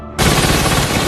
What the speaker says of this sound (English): one of the guys outside starts shooting at the